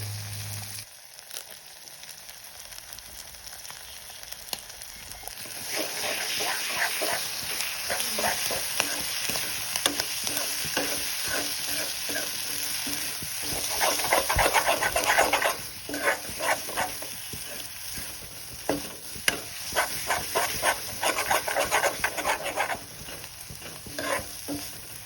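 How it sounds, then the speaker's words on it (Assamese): A duck egg frying with local pork in a pan, a loud continuous sizzle with crackling bursts and spatula stirring that grows busier after the first few seconds, close and steady with no talk. "হাঁহৰ কণীটোকে ভাঙি দিলে হ'ব আৰু অলৰেডি ফ্ৰাই হৈ গ'ল।"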